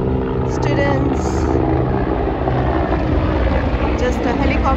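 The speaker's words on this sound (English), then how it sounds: "just a helicopter passing by" A helicopter passes over Roosevelt Island, its engine and rotor making a loud, steady low rumble that continues throughout, with someone talking over it.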